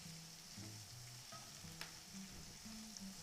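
Vegetables and edible flowers wilt in a pan for a frittata, giving a soft, quiet, continuous sizzle with a few faint clicks of stirring.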